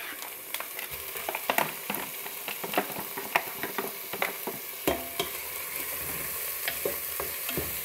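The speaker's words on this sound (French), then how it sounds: "que je fais revenir encore à peu près 3-4 minutes" Lardons sauté with onions and garlic in a Moulinex 12-in-1 multicooker, a steady loud sizzle broken by frequent scraping stirs and small pops throughout.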